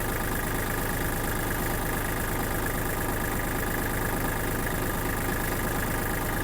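A Yanmar or Kubota compact tractor's diesel engine idles steadily, a close, loud, continuous low rumble with an even hum throughout, no voices.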